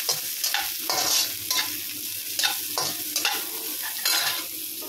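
Garlic and onion fry in an oil-filled pan for beef caldereta, with a continuous bright sizzle and a run of brisk stirring scrapes repeating every second or so, close up with no talking.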